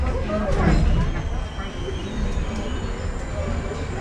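Rumbling ride on the Disneyland Railroad with a steady low roar and faint squeals, a voice speaking briefly over the noise.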